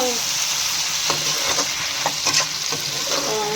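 Fish frying in a pan, a loud continuous sizzle and spatter with a few scraping stirs and clinks of a utensil, close up, with no talking.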